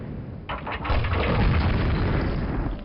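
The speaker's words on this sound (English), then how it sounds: "pre-firing some grenades around the corner to kill some" Grenade launcher rounds burst in Quake, a loud deep booming explosion kicking in after half a second and rolling on as a dense rumble.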